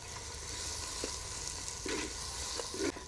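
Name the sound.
onions frying in oil with salt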